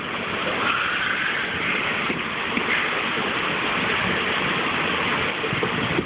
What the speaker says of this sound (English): look at that hail, it's starting to hail